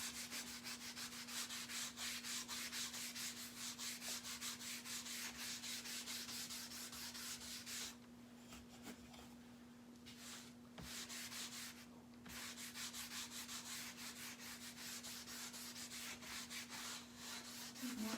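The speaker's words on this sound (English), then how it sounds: "Now we're going to move on to put a little coat of wax on here." Minwax finishing wax being rubbed onto a small wooden cutting board, a steady close scrubbing and rubbing sound that runs nearly continuously with brief pauses, heard alone without talk.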